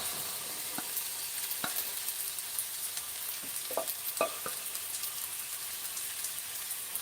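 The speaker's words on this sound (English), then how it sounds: "There's still a little bit of water from the mushrooms and the green beans, so that's what the sizzle is." Steady sizzling and crackling from mushrooms and green beans in a hot pan, with a few soft clicks and taps of stirring, close and fairly quiet.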